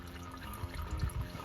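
Engine oil draining from a Vauxhall Astra, a faint, soft trickle and dribble of liquid with a few low gurgles over a brief stretch.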